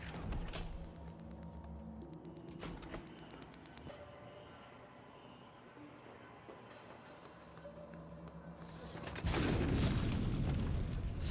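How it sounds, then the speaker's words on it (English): Booming explosions from flamethrower turrets in the sci-fi video game Prey, with a loud, dense burst near the end over steady game ambience and scattered clanking. "Stop exploding!"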